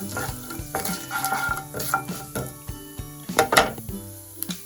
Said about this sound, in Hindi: इसी तेल में मैं डालूंगी सबसे पहले पचफोरन। पचफोरन डाल रही हूँ।